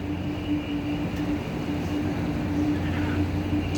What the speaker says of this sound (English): Underneath this building, we are looking at train tracks, passenger trains.